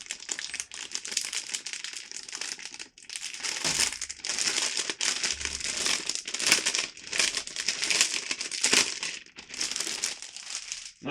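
Crinkly plastic bag being torn open and crumpled from a Rye Field Model 1/35 Tiger I kit, a continuous close, loud rustling and crackling in bursts with brief pauses, no speech.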